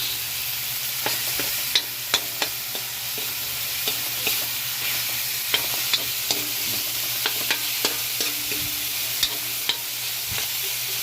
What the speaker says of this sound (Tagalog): Sukay na naman natin para maluto itong giniling